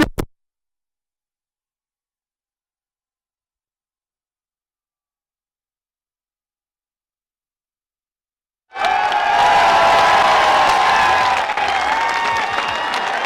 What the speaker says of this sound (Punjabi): ਉਧਰ ਕਹਿੰਦੇ ਲਲਕਾਰਾ ਤਾੜੀ ਵੱਜਦੀ ਆ